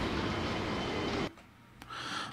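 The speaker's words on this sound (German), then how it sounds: "beim Bremsen und beim Wegfahren dann einmal auf den schönen Sound hören, den es für die Waggons wieder gibt" In the video game Transport Fever, freight train wagons brake with a faint rumbling screech that cuts off abruptly partway through, followed by quieter rail clatter and a short click.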